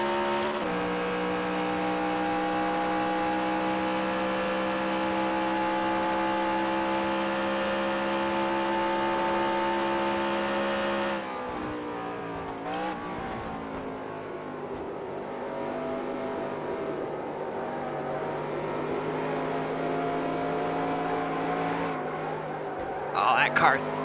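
Simulated 1970s stock car engine from NASCAR Racing 2003 at Riverside International Raceway, a loud steady high-revving drone through a qualifying lap, dipping and shifting midway as the car slows through a corner, with a voice talking over it.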